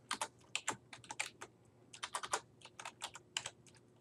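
Typing on a computer keyboard while entering data into an Excel spreadsheet, with quiet, close, irregular key clicks in quick clusters and brief pauses, no talking.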